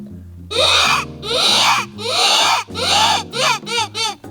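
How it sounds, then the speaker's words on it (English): A predator call gives a loud, wailing howl-like sound in several long rising and falling bursts, then quicker shorter yelps, with a harmonic tone underneath; close and loud. "We've also successfully used predator calls to lure in all kind of creatures,"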